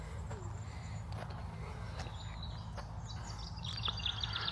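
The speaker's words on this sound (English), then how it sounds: "As I talk, 2 birds and a squirrel up here." Small birds chirping in New Forest woodland, a few thin, high tweets and short calls scattered over a quiet, low outdoor background.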